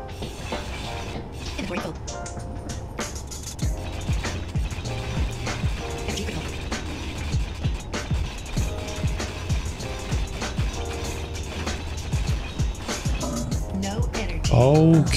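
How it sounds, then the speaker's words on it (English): A grinder cutting down a block in the game Space Engineers, giving a continuous mechanical whirring and rattling grind at steady volume, with a person talking over it. "So I'm gonna need to grind this down."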